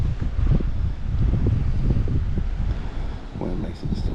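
Wind gusting across the microphone during a lunchtime ultralight bluegill fishing outing, a loud continuous low rumble and buffeting that swells and eases over a few seconds.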